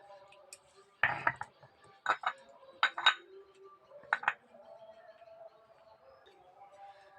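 Ginger, garlic and onion paste, ground on a stone grinding slab, is scraped into a bowl: a few clinks and scrapes of utensil against bowl come in short bursts, then a quiet stretch.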